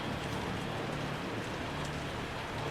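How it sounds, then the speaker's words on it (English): Steady rain falls at night in the Code Violet game, a soft, even hiss of drops with no breaks and no voices. "Oh, it's raining."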